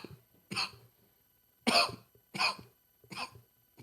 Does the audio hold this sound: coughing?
yes